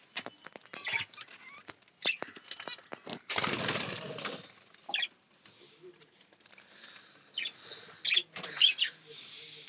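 Pet budgies feeding: bursts of wing flapping and scrabbling, quick sharp chirps and pecking patter, loud at first and then quieter and scattered.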